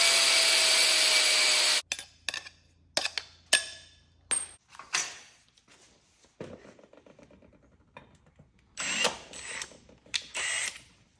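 A power drill bores during a military truck build, in short loud bursts that start and stop with pauses between, each whir rising and cutting off, after a steady loud hiss at the start.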